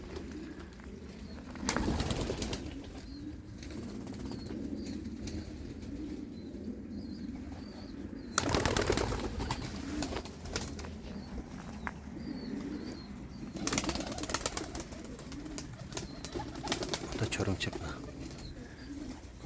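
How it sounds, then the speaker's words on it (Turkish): Pigeons in a breeding coop beat their wings in a few short loud bursts, shaking dust from their feathers, over steady low cooing and background murmur. "Kanat tozlarını böyle atıyorlar işte."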